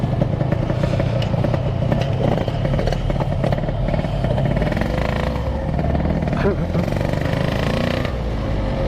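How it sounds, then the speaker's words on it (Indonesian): A Yamaha RX King motorcycle engine idles while warming up, a steady, loud, rattling two-stroke drone running throughout with some clatter, with people talking nearby. "Panasin motor"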